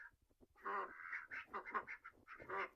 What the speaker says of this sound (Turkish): Evet arkadaşlar ördeklerimiz de kazlarımız alındı.